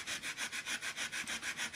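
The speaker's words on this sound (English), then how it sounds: "just grab the end of your sanding block like I'm doing here and have more control over the area" A sanding block is rubbed in quick, even back-and-forth strokes while making a metal embossed pillar candle sleeve, about ten close, soft scraping passes in steady rhythm with no talking.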